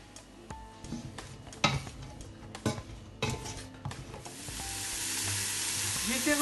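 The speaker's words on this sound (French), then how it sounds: "Je fais revenir 2-3 minutes mes légumes, ils commencent à prendre un peu de couleur." Vegetables for one-pot pasta sauté in a pot: sharp clinks of a utensil against metal and stirring scrapes, followed by a steadily rising, continuous sizzle that fills the last seconds.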